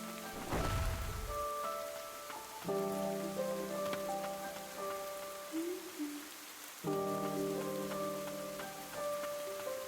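Rain patters steadily on the heroine in Ender Lilies, a soft constant hiss over layered sustained music tones, with a brief low rumble near the start.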